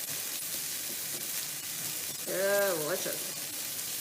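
Minced garlic frying in a pan gives a steady close sizzle throughout, with a voice briefly speaking over it midway.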